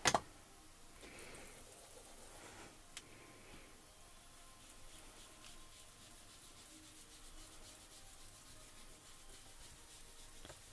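Distress ink being blended onto card stock in small circular motions for a sunset card, a faint, continuous soft rubbing with a few light taps, heard alone in a quiet room.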